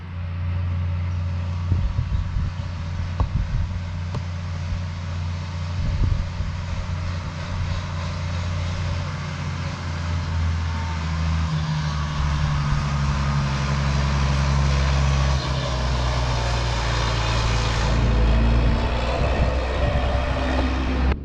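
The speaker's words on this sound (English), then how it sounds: "of course, I'm interrupted by the tractor." Tractor engine running nearby in a farm setting, a steady loud low rumble lasting throughout with shifting engine tones and occasional clanks, no talking over it.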